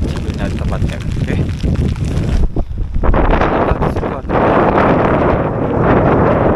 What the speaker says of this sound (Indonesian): Anginnya kenceng banget.